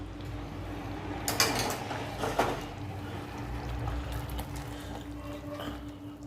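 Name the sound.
pouring hot water into cooking pot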